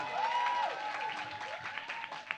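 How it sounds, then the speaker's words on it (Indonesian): Audience at an alumni homecoming event applauds for a presenter, a dense steady round of clapping close to the microphone, easing slightly toward the end. "Tepuk tangan dulu buat Kak Yuna."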